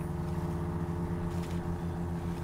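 Jeep engine in the video game SnowRunner, a steady low droning hum with a buzzy tonal rumble, running continuously and fairly loud with no talk over it.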